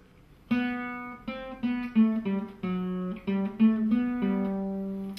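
A single guitar picks out the slow, clear melody of Bach's Minuet in G, one plucked note at a time with gentle spacing between notes.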